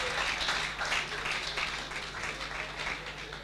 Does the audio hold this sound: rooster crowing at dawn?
no